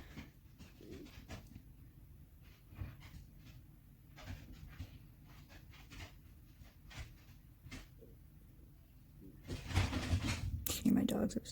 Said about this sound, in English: Hear my dogs upstairs wrestling.